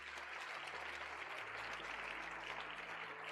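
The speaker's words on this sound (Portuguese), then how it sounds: "Então dá um aplauso ao Senhor." A church congregation claps during a worship service. The applause is a faint, steady wash of many hands that continues without a break.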